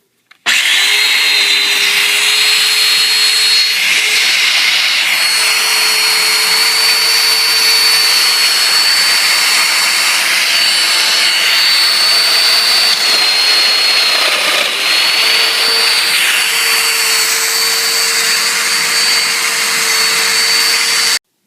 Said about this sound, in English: we'll get ready to cut the dominoes